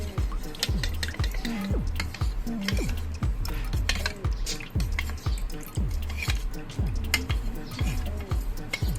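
A spoon stirs cornflour slurry for chilli chicken gravy in a bowl, making steady, rhythmic clinking and scraping strokes with a wet, sloshing edge, repeated evenly and close up throughout.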